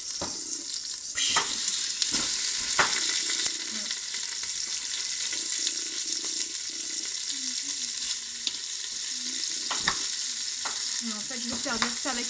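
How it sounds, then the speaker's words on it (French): Beef carbonade browns in olive oil inside a Cookeo multicooker, a steady loud sizzle with occasional stirring scrapes and clinks, close up, with no one talking. "Je vais rajouter ma carbonate de bœuf et la faire revenir."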